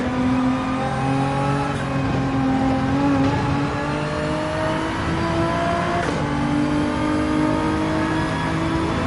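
A race car on the Dragon Trail circuit in Gran Turismo 7 drives under full throttle, its engine droning loud and steady as the pitch climbs through gears, with brief drops at shifts and no talking.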